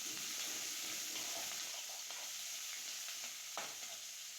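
Onions, green chillies and curry leaves sautéing in a pan for radish tikka: a soft, continuous hissing sizzle with occasional faint stirring scrapes, heard from a distance.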